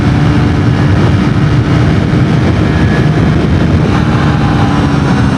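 Triumph Tracker 400 motorcycle engine pulling hard in fourth gear at speed, a loud continuous drone blended with wind rush, steady throughout.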